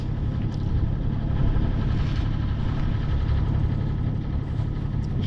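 A sailboat's engine idles and chugs steadily as it motors back to its moorings with sails down, a continuous low mechanical drone with water noise close by.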